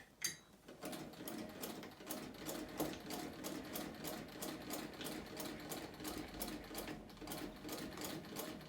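A vintage sewing machine stitches through several layers of material with a standard needle, running steadily and close up with a fast, even mechanical clatter throughout.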